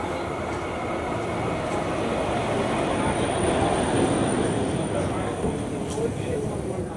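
Steady rumbling of a German tram in motion, heard from inside the car as a continuous low roll with a faint high whine, a person talking over it.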